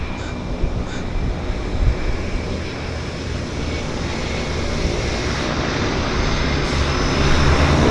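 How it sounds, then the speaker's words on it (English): A de Havilland Twin Otter floatplane lands at Vancouver's downtown harbour, its propeller engine a steady broadband drone with wind noise, holding loud and even throughout and swelling slightly toward the end. "Got another lander here. It's the Twin Otter"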